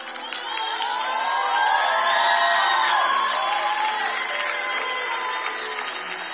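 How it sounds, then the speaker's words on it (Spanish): A concert audience at a singing-competition show rises in a standing ovation, a dense, loud wash of cheering, whooping and sustained applause that swells and holds throughout, with scattered shouts on top. "Aquí están tus profesores aplaudiendo de pie."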